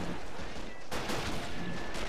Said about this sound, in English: we got tanks firing